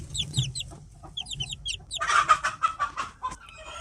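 Close chickens cluck and squawk in short bursts, the calls growing busier and louder partway through.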